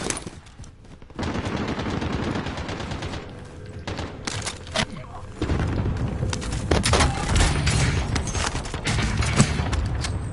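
Video game firefight with rapid bursts of automatic gunfire and single shots, loud and close, continuing steadily with brief pauses and no one talking.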